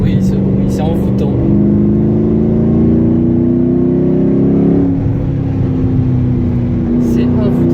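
A Ford Mustang engine revs in a steady, loud low drone that rises in pitch for several seconds, dips briefly, then holds, with a voice speaking over it.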